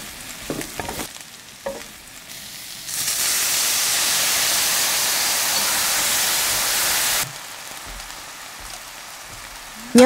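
Mushrooms and minced shallots hit hot oil in a pan and sizzle loudly for several seconds in a steady, bright frying hiss, preceded and followed by quieter clinks and stirring movements.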